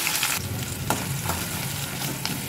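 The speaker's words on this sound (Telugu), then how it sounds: "ఆనియన్ పెద్ద ఎక్కువ వేగాల్సిన అవసరం లేదు" Onions sizzle steadily in plenty of hot oil in a pan, with dried red chillies and seeds, a dense continuous frying hiss with faint stirring scrapes, close and alone.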